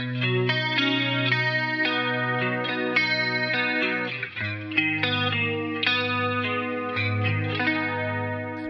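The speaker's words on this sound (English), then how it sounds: "I'll add a chorus to the entire sound and a reverb unit" Distorted electric guitar through an amp simulator with chorus and reverb, playing sustained, shimmering chords in a steady loud stream with a brief dip midway, no voices.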